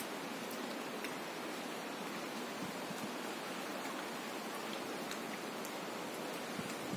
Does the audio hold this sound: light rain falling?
yes